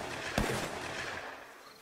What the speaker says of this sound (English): Let's take a couple out with the sniper while we are kind of away.